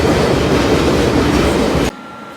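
Freight train rolling along the rails near Seattle, a loud, steady rumble with rhythmic wheel clatter that cuts off abruptly near the end.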